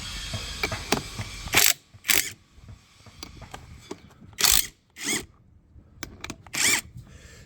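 A wrench works the 17mm bolts on a Mazda CX-5 brake caliper bracket, giving several loud, short bursts of metallic clicking and ratcheting separated by quieter pauses, close to the listener, with no talking.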